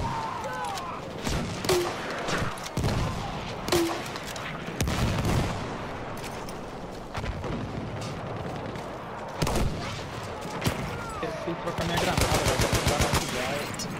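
Bursts of automatic gunfire and single shots crackle through a console shooter battle in the Argonne Forest, near and far, dense around the two-second mark and again in rapid volleys near the end, with faint talk underneath.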